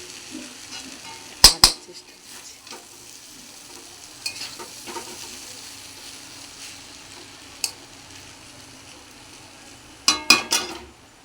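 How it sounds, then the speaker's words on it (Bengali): Chowmein noodles frying and being stirred in a kadai, with a low steady sizzle and sharp scraping clacks of the utensil against the pan in bursts near the start and end. "আমি এখন চাউমিনটা কড়াই তুলে দিয়েছি আস্তে আস্তে"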